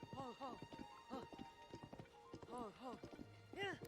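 Horse hooves clip-clop in a steady trotting rhythm in the video game Zelda: Tears of the Kingdom, mid-distance and moderately loud, interleaved with someone talking.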